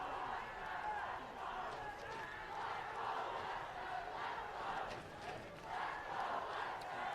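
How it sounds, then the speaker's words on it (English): High school football crowd at Huntington Beach versus Western, a steady roar of cheering and shouting fans that swells and dips throughout, heard from the broadcast booth at a distance. "Listen to the crowd, man."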